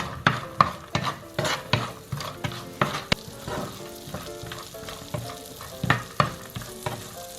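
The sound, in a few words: cashews and raisins frying in ghee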